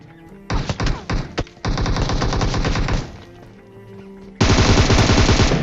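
Bursts of machine gun fire from a video game come as rapid automatic volleys, with short stuttering bursts at first, then a long sustained string, a pause and another loud continuous burst, all close and without talk.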